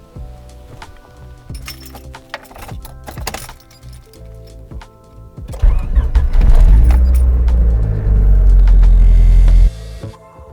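A Honda car drives to a garage, its engine rumble rising loud and steady in the second half after quieter mechanical clinks and rattles, with no talk.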